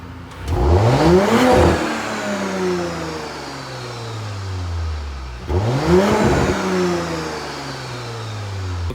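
Audi S4 B9 with a 034 Motorsport stage 1 ECU and stage 2 TCU tune accelerating hard, two close, loud pulls where the engine note climbs quickly through the gears and then settles into a long falling drone, no talk.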